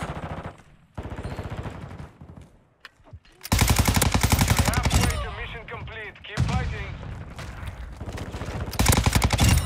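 Sustained automatic gunfire bursts in Call of Duty Modern Warfare II multiplayer, loud rapid volleys and shots stacked with game effects, broken by short quieter gaps, with voice chatter mixed in.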